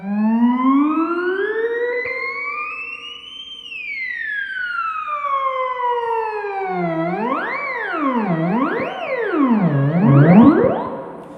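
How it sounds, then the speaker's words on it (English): Yamaha YC-30 combo organ played on its portamento strip, sweeping up in a long rising glide, swooping down, then wobbling back and forth in fast siren-like up-and-down slides, loud and alone with no voices. "the portamento strip. This is an amazing thing."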